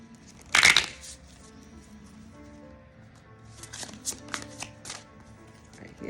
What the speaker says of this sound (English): we're going to pull that bonus card for you